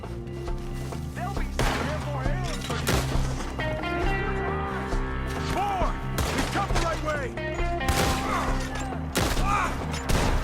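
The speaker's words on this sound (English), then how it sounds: "Shoot the ones up there first!" Gunfire in Red Dead Redemption 2 during a shootout at enemies up in a tree: rapid, irregular cracks and volleys, loud and close, mixed with shouting voices.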